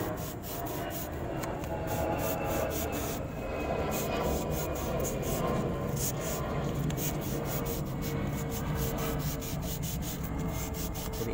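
A car brake piston from a Suzuki Carry Futura is rubbed by hand with fine 1000-grit sandpaper wet with petrol, giving a steady, close scratchy rasp with quick repeated strokes that runs continuously without talk.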